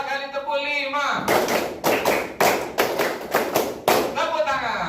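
A classroom group claps in rhythm on a teacher's counted cue, with sharp, close claps falling in short patterned bursts that are separated by brief pauses, while a voice speaks before and after the clapping.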